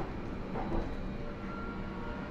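A London Underground S7 stock Bombardier Movia train on the District line between Edgware Road and Wimbledon rumbles steadily at a fairly quiet level, with a constant low drone and no voices.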